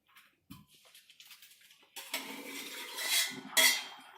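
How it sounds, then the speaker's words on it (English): Macaroni cooking water pours and splashes into a sink strainer after a few quiet metallic clinks, the gush growing louder toward the end. "I dump all the water off."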